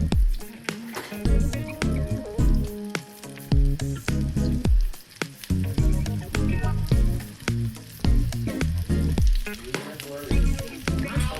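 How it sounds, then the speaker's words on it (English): Breadcrumb patties fry in coconut oil in a pan, sizzling and crackling continuously at close range, with intermittent scrapes and stirring taps as they are turned, under quiet background talk. "then I fry them in some coconut oil for about 2 minutes"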